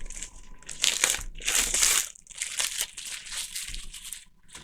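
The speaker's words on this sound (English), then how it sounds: "And get rid of the cellophane." Cellophane wrap being ripped and crumpled off a Chronicles of Crime board game box, close and loud, with bursts of crinkling and tearing in irregular handfuls followed by softer rustling.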